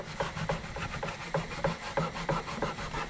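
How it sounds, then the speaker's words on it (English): Sandpaper scuffs a Mazda NA Miata center console by hand in a steady rhythm of close, raspy rubbing strokes, roughly three per second, with no voices. "Okay, let's get the scuff in this thing."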